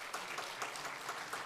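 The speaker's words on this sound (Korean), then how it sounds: "박수 부탁합니다." A church congregation at a deacons' seminary gives quiet, steady applause, with many hands clapping at a moderate distance.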